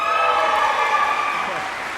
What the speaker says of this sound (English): That's a nice theatrical cheer.